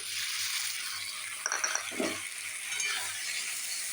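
A ground spice and tomato-ginger paste with chilli, turmeric, cumin and coriander fries in a pan for a cauliflower paneer curry. It gives a steady, fairly quiet sizzle, with a brief burst of stirring and scraping in the middle.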